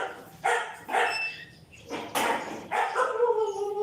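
Several sharp dog barks or yips in irregular bursts, fairly close and moderately loud, with no clear talk over them.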